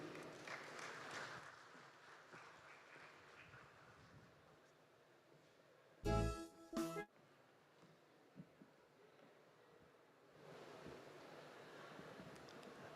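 An audience applauds on the opening day of the Caribbean Food and Beverage Trade event expo in 2023, with faint, distant clapping at the start and again toward the end, a quiet stretch between and a couple of loud thumps midway.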